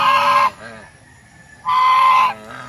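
Farm geese give two loud, nasal honking bursts close by, separated by a quieter pause.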